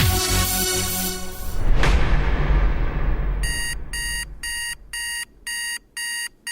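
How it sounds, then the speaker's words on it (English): An alarm clock goes off with a rapid series of bright repeated electronic beeps in evenly spaced bursts, loud and close, following a swelling musical whoosh. "Alarm! It's time to get up and get going."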